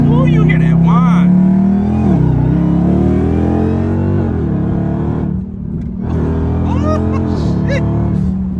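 Dodge Hellcat engine under acceleration, a loud sustained drone with a rising supercharger whine that dips and climbs again as the car pulls, heard from inside the cabin with people talking over it.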